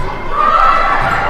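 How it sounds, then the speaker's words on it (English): Crowd applause and cheering fill a high school girls' volleyball gym during a Knob Noster Lady Panthers match against Stover, a steady, noisy roar lasting about a second without pause. "needed applause from the audience"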